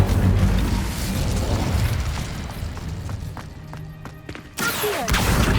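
Incendio fire spell cast in Hogwarts Legacy, a loud whooshing burst of flame with a crackling, booming roar that dies down, then a fresh blast rises at the end.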